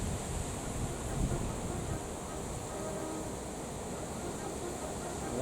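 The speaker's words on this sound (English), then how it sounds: "Whoa, that's windy." Strong wind blows outdoors near lakes, a steady broadband rush buffeting the microphone without letup, loud and continuous.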